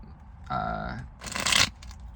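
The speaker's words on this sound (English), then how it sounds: "Let's shuffle." Tarot cards are shuffled by hand in one short, crisp riffling burst lasting about half a second, preceded by a brief murmured vocal sound.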